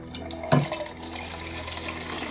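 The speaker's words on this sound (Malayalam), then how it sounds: "ആദ്യമായിട്ട് കെൻറ്റ് മെഷീനിൽ നിന്ന് വെള്ളം വീണുകൊണ്ടിരിക്കുകയാണ്." Water runs from the tap of a newly installed Kent water purifier, with a short splashy burst near the start and then a quiet, steady trickle into a container.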